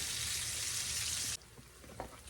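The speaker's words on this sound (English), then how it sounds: "they just been sitting here slow frying easy" A steady, bright sizzle of steaks slow frying in a pan that cuts off abruptly partway, leaving quiet room noise and a faint clink.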